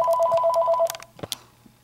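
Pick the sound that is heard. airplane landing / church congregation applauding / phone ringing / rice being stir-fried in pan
phone ringing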